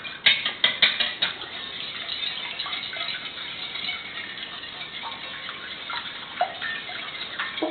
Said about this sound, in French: 3 œufs. Que nous battons à l'omelette.